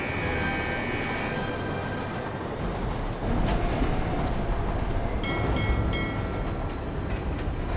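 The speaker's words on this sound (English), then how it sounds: "So I gotta move the train car" A train car rolls steadily in the PS3 game Spider-Man 3, making a continuous loud rumble with rattling and clacking. Faint tonal notes that may be a horn come and go. There is no talk.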